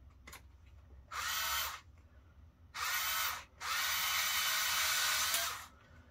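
Electric drill enlarging a hole on a balcony during a solar panel installation: three loud, steady whining bursts, the last one longest, over quiet background noise.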